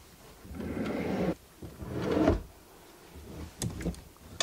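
A wardrobe drawer slides open in a home bedroom, with two rough scraping bursts and a couple of short knocks, fairly close and quiet, with no talking.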